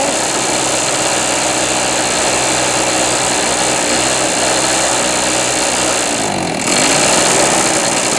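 A Harbor Freight Storm Cat 2-cycle generator engine runs loud and close with a continuous buzzing drone, still on choke. Near the end the note dips briefly, then picks up again slightly louder.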